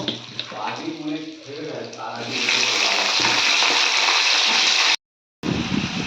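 Vegetables tipped into hot oil with cumin and ginger, hissing into a steady loud sizzle after a brief stretch of a voice talking, with a short dropout near the end.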